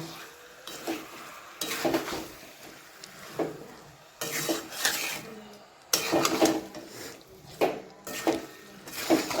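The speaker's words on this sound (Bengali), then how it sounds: "এবার এটা ভালো করে কষিয়ে নেব" A spoon scraping and stirring chicken curry in a pan as it sautés with salt for a Bengali chicken jhol, in repeated bursts of rasping, clinking strokes with a soft sizzle underneath and brief pauses between.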